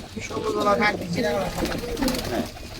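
A group of pigeons in a loft coos together in steady overlapping low throaty calls, close and fairly loud, with no talk over them.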